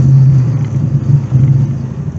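A C4 Corvette engine barely running, its deep, uneven rumble close by and steady, pulsing slightly throughout with no acceleration and no voices.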